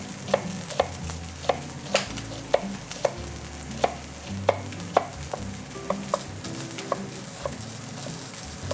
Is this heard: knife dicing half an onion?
yes